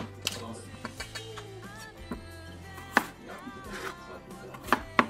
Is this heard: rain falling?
no